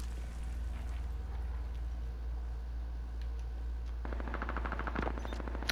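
Gunfire in Call of Duty: Modern Warfare, a steady rumbling battle bed with a rapid rattling burst of automatic fire in the last couple of seconds.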